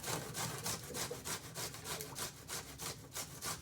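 A Jerusalem artichoke (sunchoke) is rubbed against a hand grater in quick, even back-and-forth strokes, a close, rhythmic scraping rasp repeated about a dozen times with no talking.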